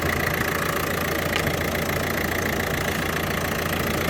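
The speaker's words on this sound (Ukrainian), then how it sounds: "Двигун ну, працює нормально." A Renault car engine runs at a steady idle close by, a constant droning hum with a faint whine and no voices.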